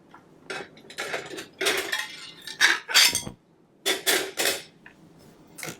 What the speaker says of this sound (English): let me put these on a plate.